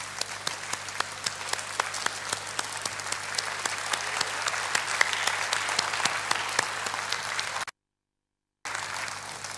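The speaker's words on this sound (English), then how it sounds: "Let's stand up and give them a standing ovation," A standing ovation at a world spirituality parliament gathering: a large audience claps continuously in a dense, even roar with distinct sharp individual claps. The sound is moderately distant, cut by a brief silent gap, then resumes.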